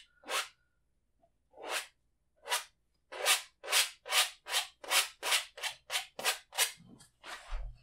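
Repeated scrapes of a palette knife clearing excess oil paint from a wet-on-wet canvas, a few spaced strokes at first, then a quick steady run of about a dozen crisp close scrapes.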